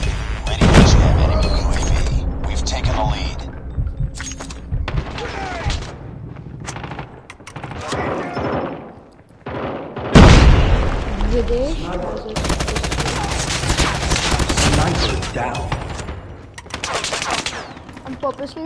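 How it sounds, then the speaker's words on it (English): Video game combat with bursts of automatic gunfire and heavy grenade explosions, loud booms punctuating rapid shots, with game voices shouting at intervals. "Watch out, grenade!"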